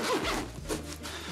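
Side compression zipper on a Peak Design Travel Backpack 45L pulled open in one quick, close, clear zip, heard alone without talk.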